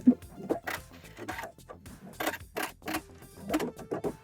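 A sewing machine back stitches and finishes a quarter-inch seam on a cargo pocket. Close, quick mechanical stitching comes in short rhythmic bursts with brief pauses between them.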